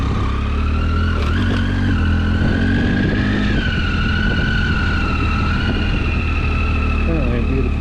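Triumph Tiger motorcycle cruising on the road fitted with a Madstad adjustable windscreen, a steady loud engine drone with a rising tonal whine and constant wind rush throughout, no talking.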